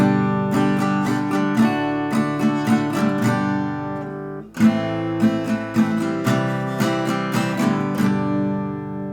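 Guitar phrases are picked with a very rounded Jim Dunlop 207 triangle pick, giving a warm, rounded attack, mixing chords and quick single notes, played solo with no talking.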